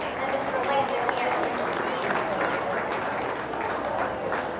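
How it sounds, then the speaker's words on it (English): An audience claps at a county fair junior beef show, and steady applause spreads across a crowd in a show ring for about four seconds, with no voices standing out over it. "if we could give a round of applause to all 4 of those exhibitors and Mr. Landon here."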